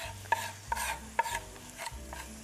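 Onions and garlic paste sizzle in a pan as they are stirred, with a soft frying hiss and a few light scraping strokes, close but faint.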